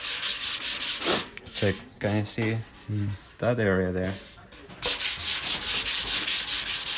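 Hand sanding paint on a Moto Guzzi Mk1 with 320-grit paper on a flat rubber block: dry, rhythmic rubbing strokes, close and fairly loud, pausing while a person speaks briefly in the middle.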